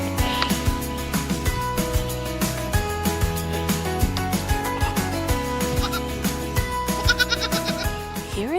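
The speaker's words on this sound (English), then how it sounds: "like these baby goats" Baby goats bleat repeatedly in short, wavering cries that come in quick succession and overlap, backed by a busy musical bed with no talking.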